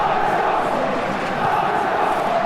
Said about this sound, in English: Crowd in full voice tonight.